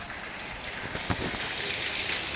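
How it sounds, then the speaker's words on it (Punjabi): Steady rain hisses outside, a broad continuous wash of noise with a few faint knocks and drips mixed in. "ਬਹੁਤ ਜ਼ਿਆਦਾ ਮੀਂਹ ਆ ਰਿਹਾ ਆ"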